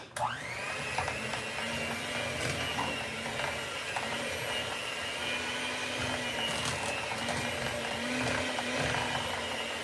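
A kitchen blender whirs steadily at fairly low volume while a meatloaf dinner is being made at home, its motor whine holding a constant pitch over a grainy mechanical rumble, with faint clicks now and then.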